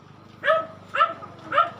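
Three short, sharp dog barks in quick succession, close by, with a faint hum between them.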